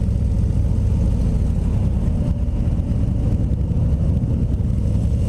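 A 2019 Harley-Davidson CVO Road Glide engine rumbling steadily while the rider slips the clutch in the friction zone at low speed, loud and continuous with heavy wind noise, no talking.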